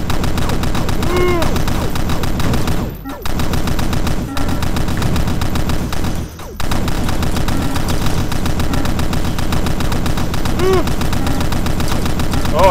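Rapid automatic gunfire from the Void Raiders video game fires continuously and loudly for the whole stretch, broken by two short pauses, with a player's voice faintly underneath.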